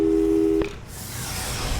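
In the video game Portal 2, a telephone busy signal sounds as a steady, loud tone for just over half a second. It then cuts out and gives way to a broad hiss of background noise.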